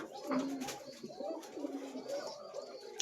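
Koka pigeons cooing in a farm loft, repeated soft throaty coos close by over a steady background, with faint chirps mixed in.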